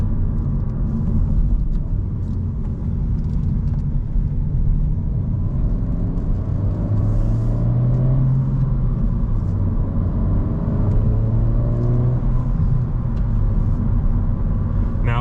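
Engine of a 2023 Honda Civic Si while driving, a steady close rumble of the motor with rising and falling pitch as revs climb and hang, continuous with road noise and no talk.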